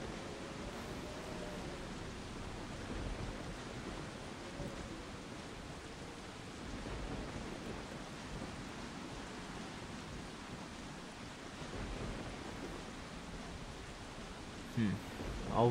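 Rain and thunder in the Resident Evil 4 video game, a steady hiss of rainfall with low rumbles running throughout and a sharper burst near the end, with a voice speaking briefly over it.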